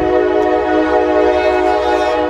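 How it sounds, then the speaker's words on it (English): A passing train sounds its horn in one long, loud, steady multi-tone blast that holds for the whole stretch, near and unbroken, with no talk over it. "Goddamn trains, dude."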